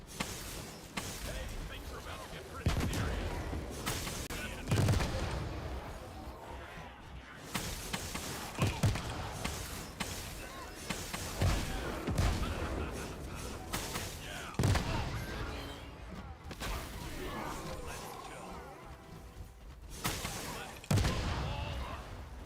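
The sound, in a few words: explosions in a video game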